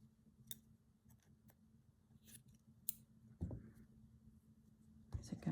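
Scissors snip through paper being cut for a journal background page, a few short close crisp cuts at a quiet level, with soft paper handling and a brief murmured voice.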